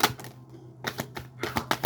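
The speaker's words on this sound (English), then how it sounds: "It's just the deck so thick I can't hardly shuffle." A thick tarot card deck being shuffled gives quick, crisp papery riffling bursts in a few separate clusters. The sound is close and fairly loud, with no talking.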